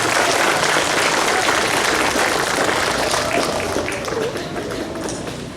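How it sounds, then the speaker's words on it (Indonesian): Steady, dense applause from a large audience at a school flag ceremony honoring winners of an inter-school language-month competition, loud and continuous throughout, thinning slightly toward the end. "Tepuk tangan dulu."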